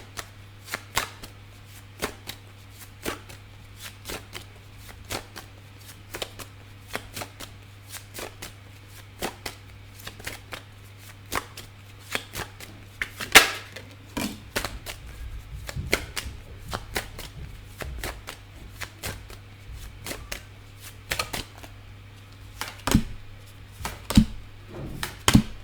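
Tarot cards shuffled by hand in a steady run of crisp, riffling clicks and slaps, close and fairly quiet over a low steady hum, with no talk.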